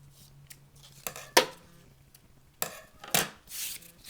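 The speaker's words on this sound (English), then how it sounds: "Cut any loose threads." Scissors snip loose threads on a sewn pencil skirt, with several sharp, separate cuts spaced a second or so apart and quiet rustling in between.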